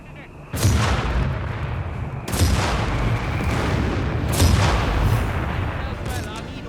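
Artillery barrage from the World War II strategy game Company of Heroes 3, with airburst shells and a BL 5.5 emplacement: heavy booming blasts hit in three big waves over a rumbling battle bed, loud and close.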